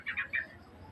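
Three quick, high chirps from a small pet bird in rapid succession, fairly close and moderately loud, then quiet.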